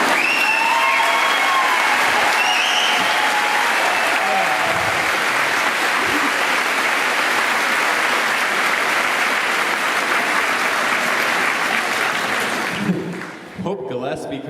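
An audience at a school convocation applauds in a dense, steady roar of clapping that goes on for many seconds and then tapers off near the end, with faint voices mixed in.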